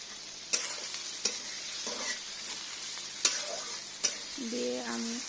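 Bay leaves fry in hot oil in a pan while pigeon meat curry is being cooked, a faint steady hiss punctuated by a handful of sharp clicks and taps, with a short humming tone near the end.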